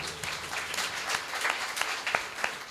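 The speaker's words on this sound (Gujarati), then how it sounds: "ચારે માટે ફરી એકવાર તાળીઓ" Audience applause for four performers at a Gujarati wedding-song programme in Ghatkopar East: a dense, steady wash of many hands clapping at moderate distance, sustained without pause.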